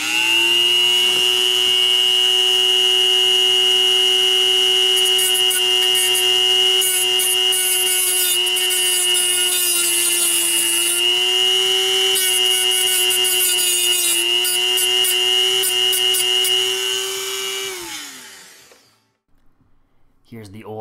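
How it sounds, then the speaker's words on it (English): A grinder cuts away the lip of an upper strut mount, giving a loud continuous whining, rasping tone for about eighteen seconds before it winds down and stops. "the only way to get it out, of course, was to grind off the little lip so that it would come loose"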